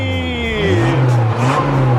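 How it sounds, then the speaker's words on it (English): A Mazda Protege pulls away with its engine rising in pitch, loud and close, with a steady low rumble building as it accelerates. "So I made Ivan drive the Protege."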